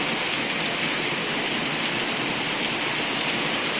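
Heavy rain pours down in a dense, steady hiss, loud and unbroken throughout with no other sounds standing out.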